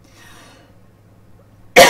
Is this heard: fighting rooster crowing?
no